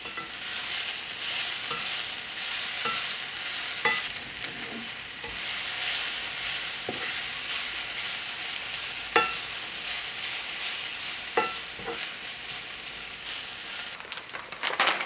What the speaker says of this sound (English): Time to add our onion.